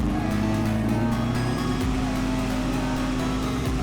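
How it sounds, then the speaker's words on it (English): Virgo Classic Custom muscle car in GTA 5 holding a loud, steady engine drone at high RPM in low gear, with a deep rumble and humming harmonics running unbroken. "Now we have the Virgo Classic Custom, a loud muscle car. You can hear that engine screaming."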